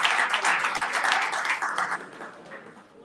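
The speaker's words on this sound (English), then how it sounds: "Everybody, please give a round of applause for Sis Dr. Kua." An audience at a gathering breaks into applause, a dense wash of many hands clapping that holds steady and then gradually thins toward the end.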